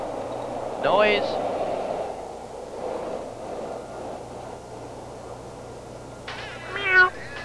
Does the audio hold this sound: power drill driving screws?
no